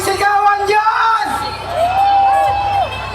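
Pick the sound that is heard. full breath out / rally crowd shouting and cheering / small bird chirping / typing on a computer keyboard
rally crowd shouting and cheering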